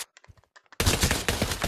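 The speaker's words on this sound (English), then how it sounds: "Shooting the air, Robin." A burst of rapid gunfire fired into the air in the VR shooter Pavlov, loud and sustained after some faint speech, with dense rattling shots close by.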